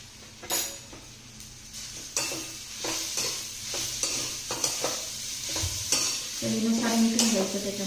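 Pea kachori filling sautés in a pan while a spatula stirs it repeatedly, producing rhythmic scraping strokes over a continuous close sizzle, with light clinks of the utensil against the pan.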